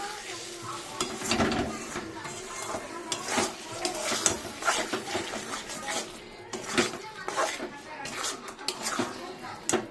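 Spice masala fries in oil in a pan for a Bengali bhetki fish bone chorchori, a soft sizzle broken by steady scraping and stirring of a spoon against the pot, fairly quiet and close.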